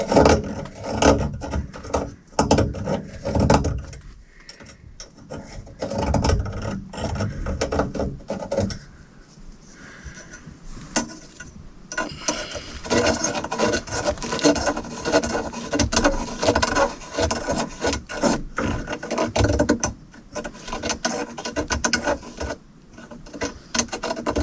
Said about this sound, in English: I'm going to take this little tool and I'm going to clean out and make sure that those edges are nice and